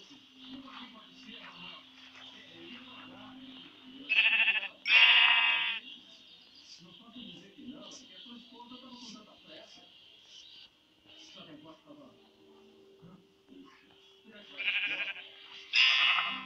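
Sheep in a video game bleat twice, a pair of loud, close bleats mid-clip and another pair near the end, while someone talks throughout over a faint steady game background tone.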